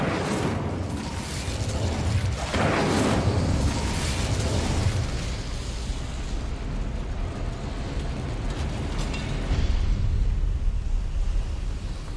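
The Incendio fire spell in Hogwarts Legacy erupts in whooshing, crackling bursts of flame and booms, loud and dense throughout, with swells near the start and end and no voices.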